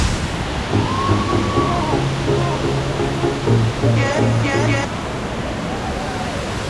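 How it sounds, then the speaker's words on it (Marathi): Monsoon waterfall at Malshej Ghat, a broad continuous roar of falling water heard steadily throughout, with voices talking underneath. "जिकडे तुम्हाला वॉटरफॉल वगैरे बघायला भेटतो"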